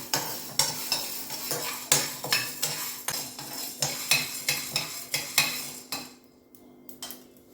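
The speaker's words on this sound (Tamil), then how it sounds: "தட்டைப்பயிறு வந்து லைட்டாக வாசம் வர வரைக்கும் ரொம்ப வறுக்க வேண்டியது" Cowpeas (black-eyed peas) dry-roasting in a pan while a spoon scrapes and stirs them, making repeated close scraping strokes with light rattling and faint sizzle, ending in a quieter stretch with a few isolated clinks.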